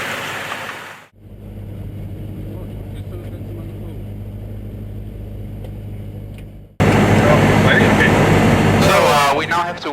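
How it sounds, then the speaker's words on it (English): Light aircraft engine idling as it warms up, a steady low drone heard from inside the cockpit, briefly quieter before louder engine noise returns with speech over it. "We now have to wait for the aircraft engine to warm up"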